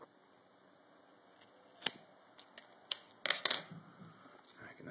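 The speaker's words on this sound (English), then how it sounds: "This is me trying to use scissors and hold the camera at the same time." Scissors snipping 3M Tegaderm transparent film dressing for road rash, a few sharp cuts and crinkles scattered through a quiet stretch, close and fairly faint.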